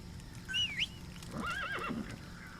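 A horse in Metal Gear Solid V: The Phantom Pain whinnies in a high, wavering call, followed by a longer neigh over a low background rumble.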